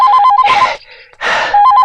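A telephone rings loudly and close, its trilling electronic pulses starting and stopping, broken by two bursts of noisier sound before the ringing resumes.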